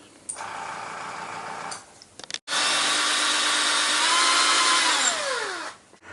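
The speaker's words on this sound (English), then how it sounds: "so I can drill some holes in there and put a dowel" A power drill whirs in two bursts, drilling dowel holes in a Sideshow Batman figure, a short run then a longer, louder one that winds down in pitch at the end.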